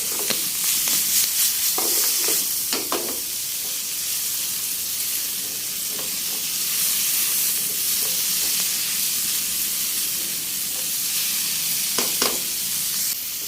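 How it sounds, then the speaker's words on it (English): Chicken liver fries in a smoking-hot pan and gets stirred, a loud, steady hiss and sizzle broken by occasional scraping stir strokes. "Now, cooking the liver is fairly quick."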